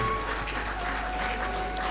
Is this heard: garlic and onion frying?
no